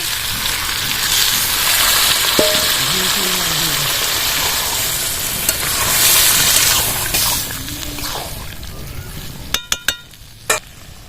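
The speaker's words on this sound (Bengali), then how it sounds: "আমি ইঁচড়টা কষিয়ে নিয়েছি এবার ডালটা ঢেলে দিচ্ছি" Chana dal is poured into jackfruit frying in a pan for a Bengali echor cholar dal, giving a steady sizzle throughout, a brief voice partway through, and a few sharp utensil clinks near the end.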